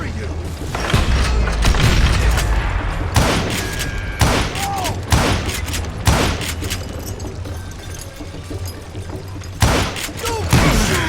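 Gunshots in the video game Call of Juarez: Gunslinger, loud sharp cracks and booming reports firing in irregular volleys amid a busy din of thuds and mechanical clatter.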